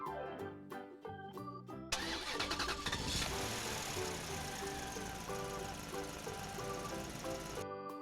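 An animal truck loaded with tame animals cranks and starts, its engine catching and settling into a steady running drone as it pulls away, with musical tones and a voice over it.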